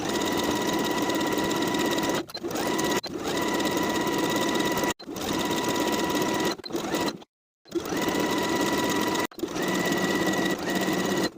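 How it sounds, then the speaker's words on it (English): Sewing machine stitching a stretched knit waistband onto the top of flowy knit pants, a loud steady whir running in long bursts with several brief pauses and one short stop between runs. "Sew the waistband to the top of the pant with a 3/8 inch seam allowance"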